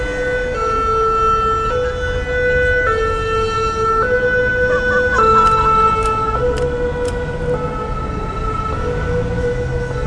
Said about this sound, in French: dès qu'on aura laissé passer les pompiers